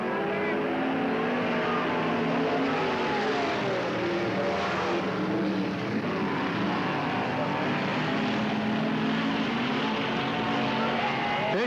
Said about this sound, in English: Bruce Ray, car 98, into the lead.